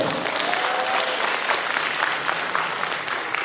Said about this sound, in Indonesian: kalau mau tepuk tangan untuk ketiga narasumber kita boleh?